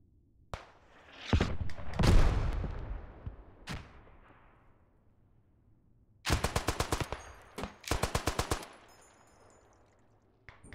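Machine gun fire in the World War I shooter Beyond the Wire: an opening volley with booming impacts, then two sharp rapid bursts of about eight to ten rounds each, loud and close.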